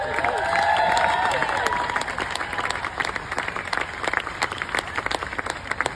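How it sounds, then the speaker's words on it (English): Crowd cheering and clapping at a community award ceremony, with loud whoops and cheers at first, then a busy patter of many hands clapping that continues to the end. "You can hear the cheers, you can hear the clapping"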